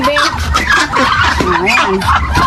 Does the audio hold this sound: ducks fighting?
yes